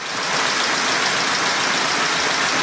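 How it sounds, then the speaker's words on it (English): A roughly 100-year-old car engine runs steadily at idle, a constant loud mechanical rattle with a busy clattering texture from its clanking tappets, and no voices. "Apart from the tappets clanking like a pneumatic drill, it's actually running pretty well."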